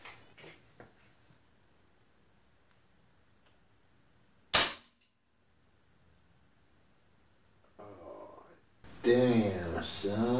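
A Hatsan Factor RC regulated PCP air rifle firing 18 grain FX pellets gives a single sharp, loud crack midway through, preceded by faint handling clicks, with voices talking afterward.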